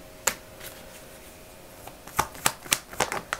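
Tarot cards are shuffled for a reading, giving a few soft isolated riffles and then a quick run of crisp, close papery slaps and flutters.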